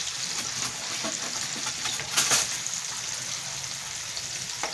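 Small marinated fish pieces fry in hot oil with a steady, fairly faint crackling sizzle and scattered pops, one brief louder burst midway, and no voices.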